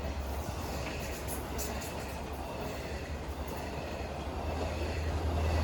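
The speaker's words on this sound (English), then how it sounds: "Rolling through next is Montauk Branch Train number 6007 on its way to Jamaica." A long LIRR Montauk Branch diesel train, number 6007, with two locomotives and eight multi-level coaches, rolls through close by with a constant low engine drone and wheel roar, faint squeals above, building slightly toward the end.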